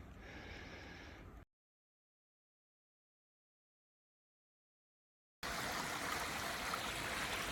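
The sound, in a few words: water flowing out of an old ornamental valve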